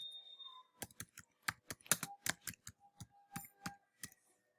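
Keystrokes on a computer keyboard, about a dozen distinct clicks in an uneven typing rhythm, close and fairly quiet, with no talking.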